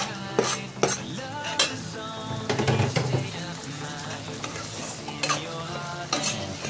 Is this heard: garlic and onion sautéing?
yes